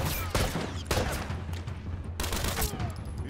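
Rapid shots from a tactical shotgun and a burst-fire pistol in The Last of Us, several loud blasts close by over busy game ambience, with no voices.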